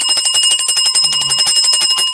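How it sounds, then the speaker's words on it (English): A bell rung steadily and loudly close by, a rapid continuous ringing with a bright metallic shimmer and no voices. "Let me ring the bell for you, Dale."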